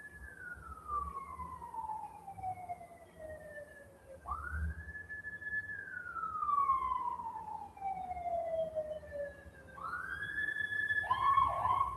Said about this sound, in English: That was one of our ambulances. They just turned off the lights. The siren.